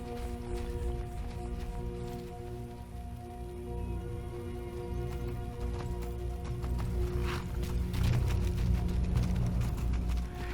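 Horses gallop in the Skyrim video game, a busy steady patter of hooves mixed with a rain-like wash and ambient game music throughout, with no voices.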